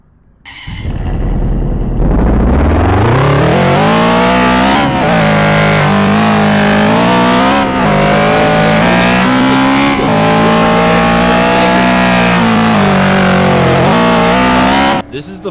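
A Ford Mustang in the Roblox game Grand Horizons cranks, fires up and settles into a loud, sustained engine drone with repeated rises and dips in revs, close and dominant throughout before cutting off at the end.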